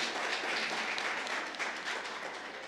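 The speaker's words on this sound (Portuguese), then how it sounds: "Palmas para Cacá Rezende, por favor." An audience at a Spiritist lecture breaks into dense, continuous applause, steady and fairly close, gradually easing toward the end.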